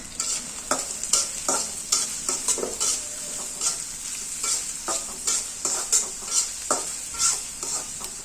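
Onions fry in a pan with bay and lemon leaves, sizzling steadily while a utensil scrapes and stirs in a regular rhythm of close, distinct strokes.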